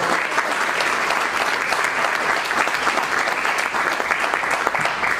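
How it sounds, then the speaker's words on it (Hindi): Loud, dense audience applause fills the room, an even roar of many hands clapping steadily throughout with no one talking. "जोरदार तालियों से आपको"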